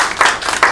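An audience at an international workshop breaks into brief applause, a short burst of hand claps rising in a couple of quick surges.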